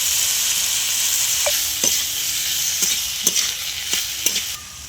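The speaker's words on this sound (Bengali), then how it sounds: "আর সর্ষেটা আমরা ফোড়ন দিলাম টমেটোর চাটনির সঙ্গে।" Tomato chutney with mustard seeds, salt and chili sizzling and frying in a pan, a steady close crackle with several sharp stirring clinks and scrapes scattered through.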